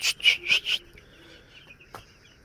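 Eight-day-old broiler chickens cluck in a quick run of four loud, close calls, followed by quieter rustling and one more short cluck.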